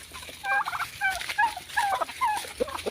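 Chinese chickens feeding on bananas, giving repeated close, bubbling gobble-like calls in quick bursts with no talk.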